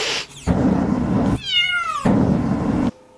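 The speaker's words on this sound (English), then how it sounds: "And pesky neighborhood cats." A cat meows once, a clear drawn-out cry rising and falling in pitch, heard alone between stretches of steady low rumbling background noise.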